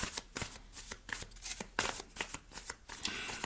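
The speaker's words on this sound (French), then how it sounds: "Déjà mélanger le jeu pour vous." A deck of tarot cards is shuffled in repeated quick riffling bursts, close and fairly steady, with no voice.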